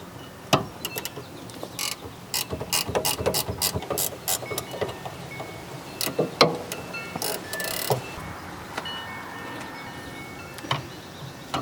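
Ratcheting wrench loosening a rear brake caliper bracket bolt on a 2003-2007 Honda Accord, heard as a run of sharp metallic clicks in quick bursts with pauses between, close and fairly loud, with no talking.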